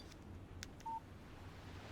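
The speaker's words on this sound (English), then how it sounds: "Text message from Barry." A single short electronic beep from a phone sounds once, faint and brief, over a quiet low background hum.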